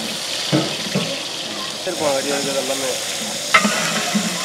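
Half a kilo of large onions sizzle in hot groundnut oil with mustard seeds for a village-style mutton curry. A steady frying hiss is broken by sharp stirring knocks, and a voice talks briefly in the middle.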